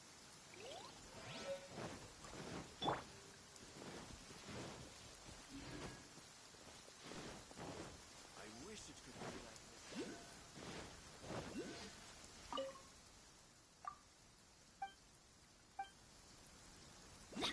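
Rain and thunder in the video game Genshin Impact: faint, steady rainfall with scattered drops and soft rumbles, ending in a few sharper isolated drips.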